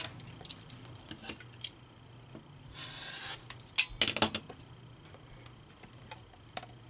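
Quilt block sides trimmed with a log cabin trim tool, a few soft scrapes and light ticking contacts, with a brief louder cutting burst midway followed by sharp clicks.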